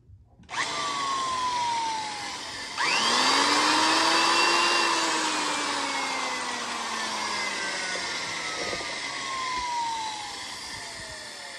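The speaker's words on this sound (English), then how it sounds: "you can tell that that is a torquey drill" A corded electric drill with a chuck key, plugged into an extension cord, whirs up, jumps to a higher, louder speed, then holds a steady whine that slowly sags in pitch over several seconds.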